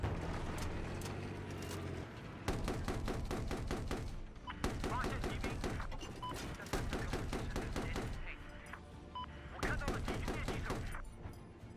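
Heavy machine gun in Battlefield 4 fires long, dense automatic bursts in several volleys with short gaps between them, loud and close, with faint voices in the background.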